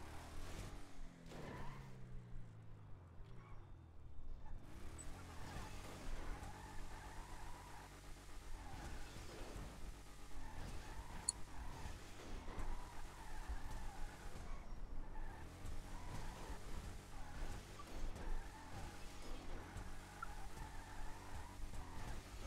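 A Declasse Vamos, a Chevy Nova–style muscle car in GTA V, drives with a steady mid-pitched engine drone and revving swells as it pops wheelies, loud and continuous with no talk over it.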